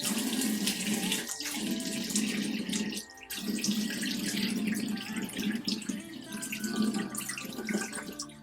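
Lukewarm tap water runs steadily from a faucet into a sink while someone wets their face during a skincare routine, a continuous close splashing with a brief interruption partway through.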